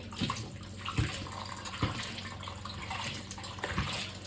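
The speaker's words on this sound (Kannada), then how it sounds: "ಈಗ ಮಮ್ಮಿ ಅಕ್ಕಿ ತೊಳೆದು ಇಡಾತಾರ" Rice washed in water in a home kitchen, with a steady sloshing and splashing plus a few louder swishes and knocks at intervals, close and moderately loud, with no talk.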